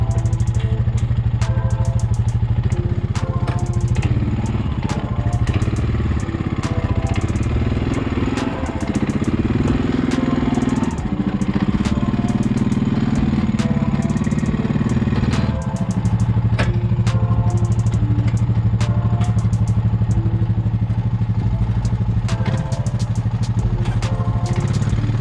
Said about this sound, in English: I'm gonna go ahead and move the quad out of the way